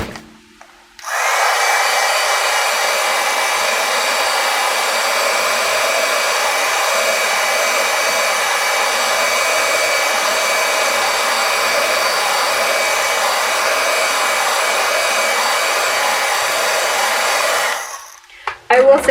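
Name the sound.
heat tool or hair dryer heat-setting stamped ink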